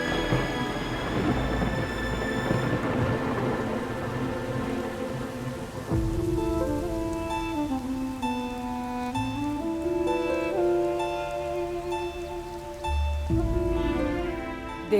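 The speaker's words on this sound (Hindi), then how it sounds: "देखिए ना कैसे बेमौसम बारिश शुरू हो गई" Unseasonal rain pours down steadily as a constant wash under a loud, dense layer of sound, with low rumbles that may be thunder.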